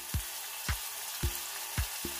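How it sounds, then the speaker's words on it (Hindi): Tomatoes go into a pan of frying masala macaroni, which keeps up a soft, steady sizzle broken by regular dull thuds, about two each second, as the food is stirred. "गाइस, अब हम इसमें टमाटर ऐड कर देंगे।"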